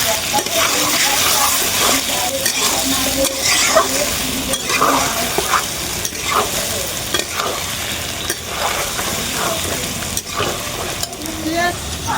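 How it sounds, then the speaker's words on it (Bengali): Chilli and turmeric powder sizzle and fry in a pan while being stirred, a loud, steady sizzle with repeated scraping strokes running throughout. "দিয়ে এবার নাড়তে থাকবো।"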